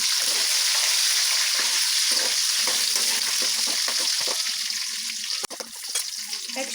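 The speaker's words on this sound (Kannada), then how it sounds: "ನಮ್ಮ ಮೆಣಸಿನ್ಕಾಯಿ ಹಾಕೋಣ ಇಲ್ಲಿ ಜೋರಾಗಿ ಕಾದಿದೆ ಹಾಗಾಗಿ ನಾನು ಕಬ್ಬಳ ಹಾಕಲಿಲ್ಲ ಮೆಣಸಿನ್ಕಾಯಿ ಹಾಕಿದ್ದೀನಿ" Green chillies frying in very hot oil give a loud, dense, steady sizzle with scraping stir sounds and a brief dip near the end.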